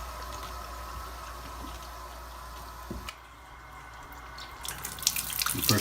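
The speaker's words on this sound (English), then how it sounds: "So we're gonna turn the water on." Water running through an RO water purifier filter to flush it, a soft steady hiss and trickle that grows louder and splashier toward the end.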